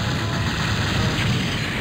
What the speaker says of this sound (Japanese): 爆発する。